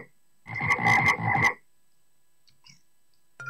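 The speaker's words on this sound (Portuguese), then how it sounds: "Sapo é frog." Several rapid frog croaks in a quick rhythmic burst from a children's painting game, loud and close, followed by near silence and a faint later sound.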